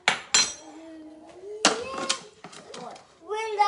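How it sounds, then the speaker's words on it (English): A Thermomix TM6 lid clunks and clicks into place during a hot cross bun dough session, giving a few sharp plastic knocks amid quiet kitchen sounds, with a voice and adult talk in between. "pop the lid on"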